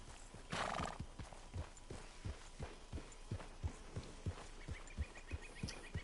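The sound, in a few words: horse galloping hooves, video game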